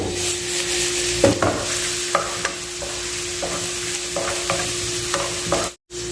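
Ginger sizzles in hot cooking oil as it fries, a steady crackle with occasional stirring knocks, close and fairly loud, alone without talk.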